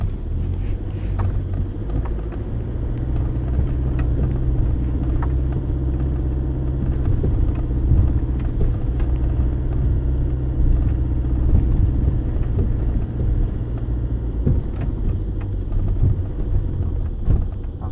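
A 4x4 vehicle drives off road, its engine a steady low rumble up close throughout, with small bumps and rattles.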